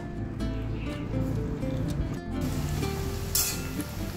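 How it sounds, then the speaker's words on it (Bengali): Two medium onions, chopped, fry in hot refined oil while a steady sizzle runs under a low hum, with a few faint clinks and a sharp crackle near the end. "এবার এতে দিয়ে দিলাম দুটো মাঝারি সাইজের পেঁয়াজ কুচি। এগুলো ব্রাউন করে ভাজতে হবে"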